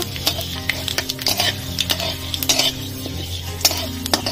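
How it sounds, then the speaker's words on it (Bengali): A spoon stirs dry chili, five-spice and bay leaf frying in a little oil in a pan, with repeated scraping clinks against the metal over a soft continuous sizzle, close by. "ফোড়নের দিয়ে দিচ্ছি একটা শুকনো লঙ্কা, 5 ফোড়ন, তেজপাতা, নাড়াচাড়া করে নেব।"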